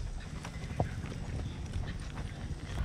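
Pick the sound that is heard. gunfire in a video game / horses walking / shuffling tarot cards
horses walking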